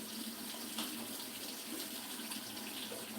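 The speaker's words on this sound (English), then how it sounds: "Ouch, that's hot water." Hot water runs steadily from a tap while wool yarn is being dyed, a constant, close, soft rushing with no talking.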